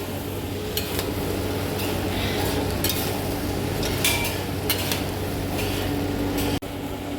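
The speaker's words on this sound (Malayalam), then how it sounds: "ഇതേപോലെ മിക്സ് ചെയ്യാൻ നോക്കുക രണ്ട് കൈയും ഒരേപോലെ ഒരേ ടൈമിൽ തന്നെ" Chicken fried rice being stirred and tossed in a pan, with steady metallic scraping and clinks of a utensil against the pan over a constant sizzle and kitchen hum, close and continuous.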